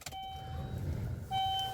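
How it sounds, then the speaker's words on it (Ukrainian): A Chevrolet Lacetti engine cranks and catches at low volume, with a steady electronic chime sounding over it before and after. "Заводимо автомобіль,"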